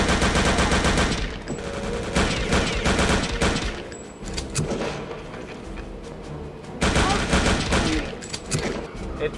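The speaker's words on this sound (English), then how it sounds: "Let's get some better weapons, an MP40." Dense, sustained automatic gunfire from an MP40 in a PC video game, loud continuous bursts with short lulls between them, with some voice faintly present.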